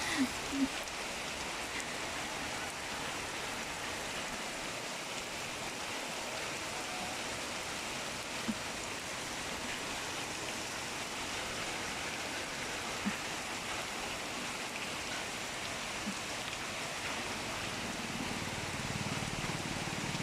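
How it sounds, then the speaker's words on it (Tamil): Steady, even hiss of light rain falling outdoors, continuous throughout with no voices, a soft wash of drizzle on surfaces. "மழை தூருது"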